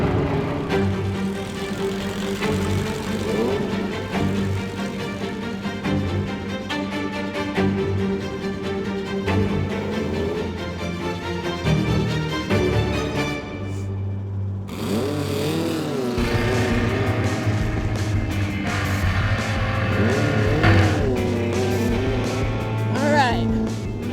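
Race vehicle engine in the Mint 400 desert race, a loud continuous engine drone under music that drops out midway, followed by deeper revving, with a voice talking over it.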